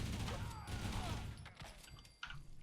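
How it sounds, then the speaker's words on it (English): Rapid-fire bolter from a Space Marine mod in Fallout 4, a dense, continuous burst of heavy gunfire with a booming low end and a sharp late blast, loud and close with no talk. "That's the rapid fire bolter."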